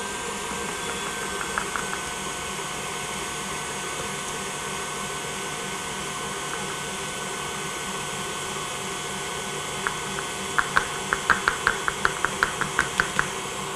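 An electric mixer whirs steadily while egg whites are beaten and sugar is added a tablespoon at a time, a constant close motor drone. Faint clinks of the beaters against the bowl come in near the end.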